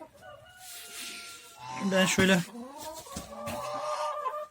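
A broody hen clucks and squawks up close in repeated bursts, with a louder flurry in the middle, and someone speaks briefly over it.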